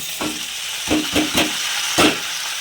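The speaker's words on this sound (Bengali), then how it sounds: "এখানে মাছ ভাজা বসিয়ে দিয়েছি" Oil sizzles steadily in a pan as fish fries, with several louder bursts of crackling as the fish is turned and stirred.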